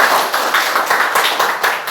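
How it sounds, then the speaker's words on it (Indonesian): A class of students claps together in a teacher's lesson, a steady, moderately loud patter of many hands that swells in small waves and continues throughout. "Tepuk tangan untuk kita semua"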